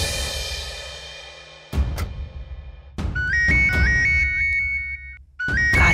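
A phone rings while a call is being placed in a home drama scene: a repeating electronic ringing tone sounds midway, set among loud dramatic sound bursts and with no talking.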